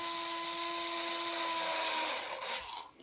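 A power screwdriver drives a screw into the wood body of a Fender Squier Bullet Strat, a steady close motor whine that stops abruptly near the end.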